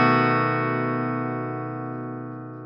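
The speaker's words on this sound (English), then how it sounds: "a rake is where you slowly drag or rake the plectrum across the strings." Guitar chord raked slowly with a plectrum across the strings, a single strum ringing out with rich sustained harmonics and slowly decaying, heard alone at moderate volume.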